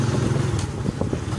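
Motorcycle engine idling or running steadily at close range, a continuous low rumble with faint wind noise.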